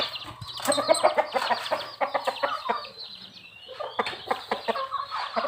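Young chickens and a young rooster cluck and chirp close by in quick repeated bursts, several birds overlapping, with a steady low hum underneath.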